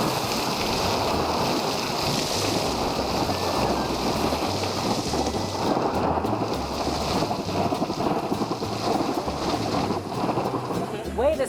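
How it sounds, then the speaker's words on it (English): A geothermal geyser bursts out in a broad roaring rush of steam and water, a loud continuous wash that holds steady throughout, with an excited voice nearby. "every 15 to 20 minutes, it erupts in a burst of steam and water"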